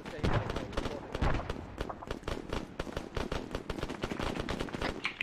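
Gunfire in the Arma 3 military simulation game during a joint assault operation: rapid sharp shots and bursts at close to mid range, with brief voices mixed in.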